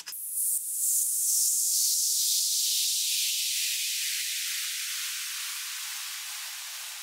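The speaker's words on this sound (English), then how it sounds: "which is basically a sweep type effect, noise sweep" A bright synthesized noise burst that hisses loudly, then slowly sweeps downward and thins out over several seconds, alone.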